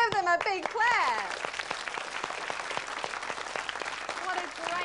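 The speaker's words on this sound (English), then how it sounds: "Give them a big clap." An audience claps for an orchestra's string section at a family concert, a soft, continuous patter of applause under a speaking voice that continues throughout.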